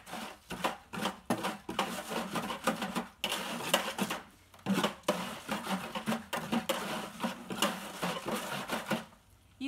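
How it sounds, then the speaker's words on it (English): Hand whisk beating homemade laundry detergent in a kitchen bowl, producing quick, rhythmic clattering bursts that repeat with short pauses, fairly close and without any talking. "I just don't have any outlets here, so I'm using a hand whisk"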